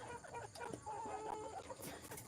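Chickens cluck in a poultry coop where laying hens are kept, a faint, steady stream of overlapping clucks and calls heard throughout.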